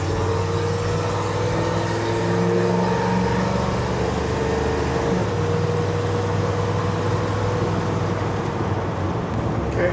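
A carbureted V8 engine fitted with an Edelbrock VRS-4150 650 CFM carburetor runs loud and steady close by, holding a rough idle with slight swells in speed throughout.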